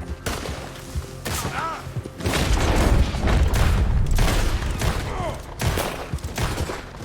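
Gunfire rings out in a Red Dead Redemption II shootout against O'Driscoll gang members: loud, dense volleys of shots and booming reports fill the scene, with voices calling out at moments amid the battle.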